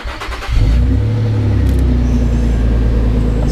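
A Nissan Stagea M35 engine with a straight-pipe exhaust cranks and catches at about half a second, then settles into a loud, deep, raw idle rumble that continues steadily to the end.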